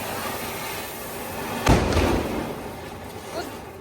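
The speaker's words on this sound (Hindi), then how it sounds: "कुछ पटाखे बचा ले यार दीपक की शादी के लिए" A single firecracker bursts at a family home gathering, giving one sharp bang that decays quickly against a steady background with voices nearby.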